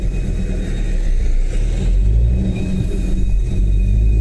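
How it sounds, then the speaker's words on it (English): Close, loud car engine rumbles steadily with mild revving while sitting in slow traffic, a continuous low drone without speech. "it's just sitting in traffic"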